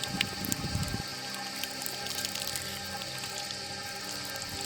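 Water splashes and runs continuously in a fountain at Hadrian's Villa, a steady rushing wash with a brief burst of louder splashing at the start.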